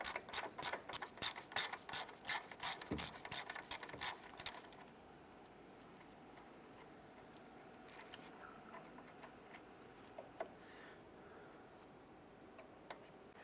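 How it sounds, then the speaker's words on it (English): A ratchet clicks rapidly loosening a 10mm bolt holding the front flex hose and ABS wire on a 2015-2020 Cadillac Escalade, a close steady run of clicks for a few seconds before fading into quiet shop background. "Just go ahead and loosen and remove this bolt."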